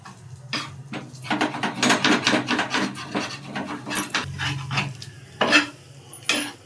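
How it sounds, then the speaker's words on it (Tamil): A ladle stirs chilli fish in a cooking pan, giving steady scraping and clinking strokes with a light sizzle underneath, close and fairly loud throughout. "அதனால் கரண்டி விட்டு கிண்டிட்டு இருப்போம்"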